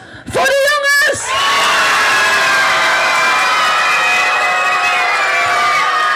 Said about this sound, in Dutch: Mag ik een applaus